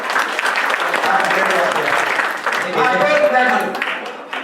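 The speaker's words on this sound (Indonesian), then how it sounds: "Tepuk tangan dari Seton." Audience applause at a Balinese bondres comedy show in Busungbiu village, a steady dense patter of clapping filling the whole moment, with voices mixed in.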